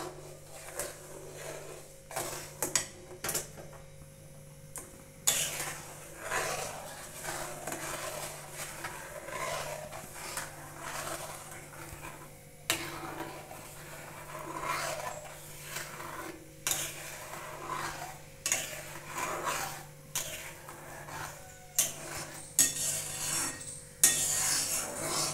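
A spoon scrapes and rubs around a pot while sugar, milk and palm pulp are stirred together, in repeated close rasping strokes with occasional clinks and no talk.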